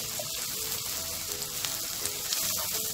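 Chopped onions fry in a hot pan, a steady, close sizzle with light crackles throughout and no speech.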